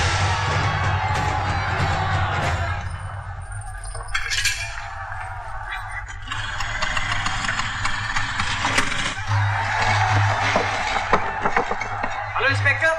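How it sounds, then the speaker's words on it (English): A huge crowd gathered outside during communal violence in Gujarat, a loud mass of shouting and cheering voices with a low engine-like rumble beneath, swelling and fading across the stretch while speech breaks in. "There's a huge crowd outside."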